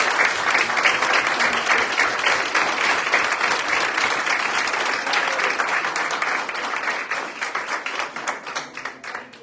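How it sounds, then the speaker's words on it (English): A council meeting audience breaks into loud, dense applause, continuous close clapping that holds steady and then thins into scattered individual claps near the end. "we need to give a big thank you and round of applause"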